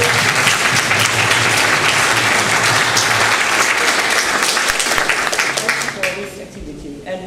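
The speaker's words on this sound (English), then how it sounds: "So give them just a clap." Audience applause at a ministerial conference plenary, a full, loud round of clapping from a large hall that holds steady for several seconds before tapering off near the end.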